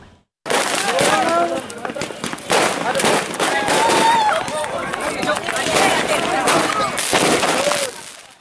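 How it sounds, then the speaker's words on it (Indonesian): Dense, continuous crackling and popping of firecrackers with loud bangs, amid a noisy outdoor crowd of youths fighting in the street before dawn in Situbondo, East Java, sustained for several seconds. "terlibat tawuran disertai perang petasan jelang sahur"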